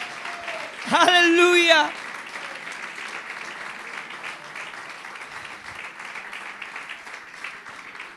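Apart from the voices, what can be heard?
church congregation applauding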